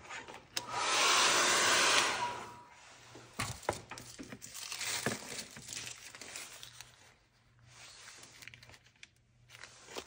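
A hair dryer blows loudly for about two seconds to dry a mixed media collage, followed by paper crinkling and rustling as the collage papers are handled.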